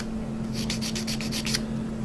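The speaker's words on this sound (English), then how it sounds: "you don't want to put too much pressure on the sanding stick" About eight quick, light rasping strokes, evenly paced back and forth, from a sanding stick lightly rubbing a plastic model surface over a steady low hum.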